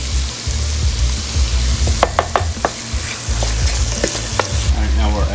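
Anchovy hitting a braising pan for Marsala braised beef ribs, giving a steady close sizzle with scattered crackles and pops throughout, no voices.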